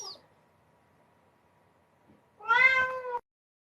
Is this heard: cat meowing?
yes